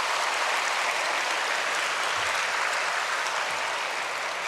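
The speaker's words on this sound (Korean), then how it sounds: "박수 쳐주시려면 제대로 쳐주세요." Applause from a church congregation during a Sunday worship service, a steady dense wash of many hands clapping at moderate level, continuous for several seconds with no talking over it.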